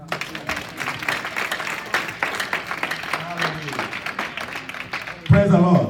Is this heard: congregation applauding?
yes